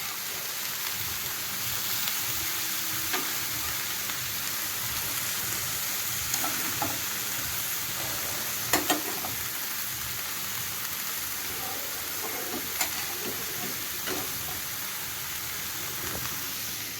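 Fish fries in a hot cast iron pan with winter vegetables, giving a steady, even sizzle with scattered small pops and crackles over seventeen seconds, no voices present.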